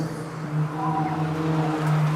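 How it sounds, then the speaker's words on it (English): A turbocharged 2023 Honda Civic Type R at an autocross course gives a steady, moderately loud engine drone with a faint rising whine near the end. "Turbo noises."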